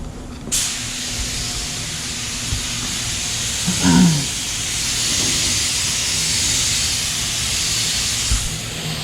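Steady airy hiss of a paint spray gun running at moderate air pressure on a race car runs throughout at moderate loudness, with a brief thump and some faint background clatter partway through.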